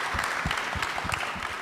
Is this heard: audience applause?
yes